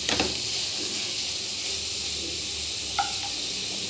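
Garlic and a little tamarind fry in a pan for a leafy greens chutney, giving off a soft, steady sizzling hiss with one brief clink near the end.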